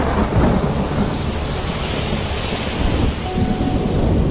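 Thunder rolls from tropical storms off the Florida coast, a continuous loud, deep rumble blended with heavy rain and wind, with no pauses.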